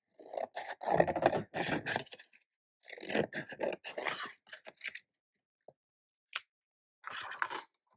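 Scissors snip through a soap packaging inlay, cutting it to size for handmade pink rose cold process soap; several short crunchy cuts come in bursts with brief pauses, close and fairly clear.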